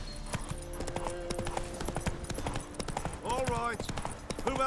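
Horse hooves clip-clopping at a steady gallop in The Witcher 3, a quick regular rhythm of thuds mixed with game music and a short whinny-like tonal sweep near the end.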